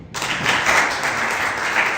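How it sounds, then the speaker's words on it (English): A crowd at a youth workshop breaks into steady applause after a brief silence, clapping continuing evenly at moderate loudness throughout. "Let's clap for him."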